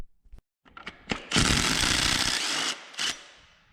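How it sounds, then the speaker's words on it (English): Removing a 19mm cam gear bolt on a Datsun 240Z/260Z/280Z engine with an impact gun: a few short taps, then a loud sustained rattling burst of about a second and a half, and one final short burst, close and unaccompanied by talk. "get this cam gear off of here. This is a 19mm bolt."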